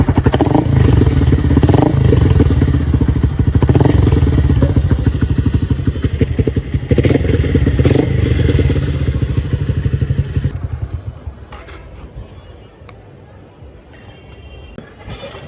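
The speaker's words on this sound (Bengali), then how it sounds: "সাউন্ড, ডিবি কিলার লাগানো সাউন্ড।" A Pulsar P150 motorcycle with a modified silencer and dB killer fitted rumbles with a loud, rapid exhaust beat at close range, then fades to a quieter idle chatter near the end.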